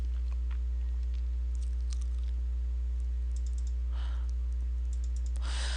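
Computer keyboard keys pressed while typing a value into a line spacing setting, heard as faint, scattered clicks over a steady low hum, with a slightly louder burst of taps near the end.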